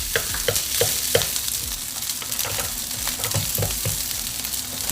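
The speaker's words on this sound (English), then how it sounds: "Now around this time, I'm going to add my white onion." White onion frying for pork fried rice in a home kitchen: a steady close sizzle with regular scraping taps from a stirring utensil, and no talking.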